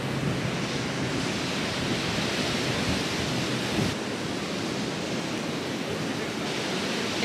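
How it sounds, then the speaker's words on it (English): Strong beach wind on the Florida coast roars steadily against the microphone, a loud continuous rush with no voices. "The wind is crazy."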